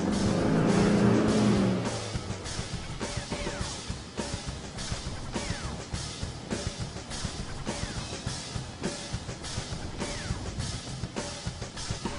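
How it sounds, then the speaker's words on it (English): An Isuzu ute driving downhill on sand in second gear low range, its engine a steady drone throughout under wind buffeting and rumble, after a brief louder burst at the start. "And then just take second gear, low range, off we go."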